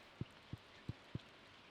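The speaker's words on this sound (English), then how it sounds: "It's raining again. It's the third rain day in a row." Four soft, evenly spaced low thumps of raindrops land over a quiet background in the Stardew Valley farming game, faint and close, with no speech.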